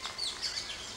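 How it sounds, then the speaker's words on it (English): Outdoor birds in Barbados, thought to be a turkey-duck cross, give faint high chirping calls against steady background noise, with no talk. "they're just ugly birds. I think they're a cross between a turkey and a duck."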